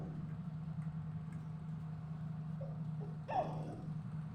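A motorcycle that has sat unused putters at a faint, low, steady idle after a cold morning start, with a brief louder hiccup near the end.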